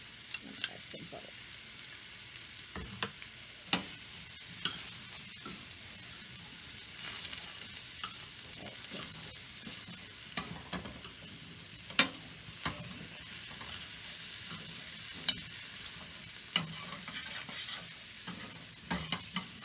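Butter with mushrooms sizzling in a frying pan: a quiet, steady fry under frequent clicks and scrapes of a utensil stirring. No speech.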